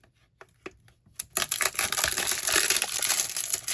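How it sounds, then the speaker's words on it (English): An Ozark Trail knife slicing open a package holding a 32-piece bit set: a few soft ticks, then a sustained close crinkling, tearing rasp of plastic or cardboard that continues to the end. "We're going to use the old Ozark trail to cut this guy open."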